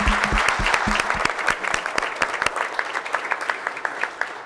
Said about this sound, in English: So I would like to give a big round of applause for her family